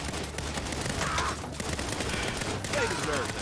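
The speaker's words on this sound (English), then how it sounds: "They have a turret." Enemy turret gunfire in Saints Row (2022) rattles in a dense, continuous fusillade that stays close and loud throughout, with bursts of automatic fire overlapping one another.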